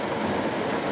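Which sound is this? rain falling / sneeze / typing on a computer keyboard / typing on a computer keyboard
rain falling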